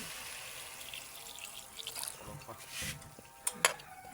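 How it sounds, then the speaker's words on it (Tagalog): Water poured into a pot of Filipino tinola chicken soup, a soft trickle and a few drips building at close range, ending in louder splashes and clinks near the end. "Lagyan natin ng konting tubig."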